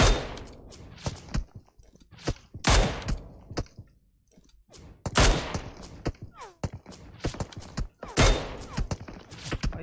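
Gunfire rattles through a PUBG Mobile match: loud, sharp bursts and single shots come in irregular clusters, with brief quieter gaps and some faint, distant shots between them.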